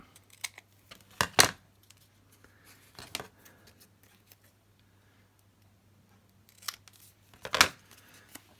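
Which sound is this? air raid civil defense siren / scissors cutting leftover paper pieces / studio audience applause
scissors cutting leftover paper pieces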